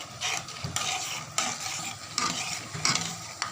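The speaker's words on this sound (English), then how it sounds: "I am just frying all these ingredients together." Urad dal, mustard seeds and cumin seeds frying together in hot oil while being stirred, giving a steady close sizzle with scraping, rattling stir strokes and brief bursts of louder crackle.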